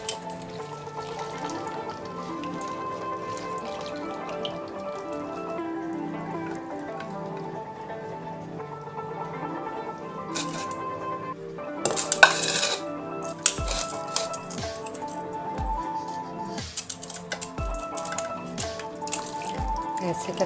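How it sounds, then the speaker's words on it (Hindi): Water drips and trickles into a bowl as grated cabbage is squeezed by hand, with scattered drips and splashes over a steady background hum, growing more frequent toward the end. "हाथों की मदद से हम इसका सारा पानी ऐसे करके निचोड़ लेंगे"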